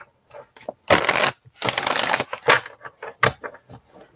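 Tarot cards are shuffled by hand in quick, papery bursts of riffling and sliding, close to the listener, with short pauses between bursts and no talking.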